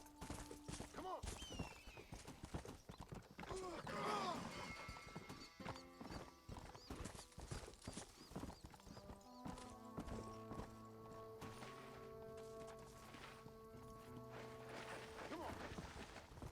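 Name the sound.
horse galloping in a video game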